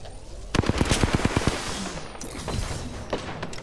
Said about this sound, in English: That was the grenade.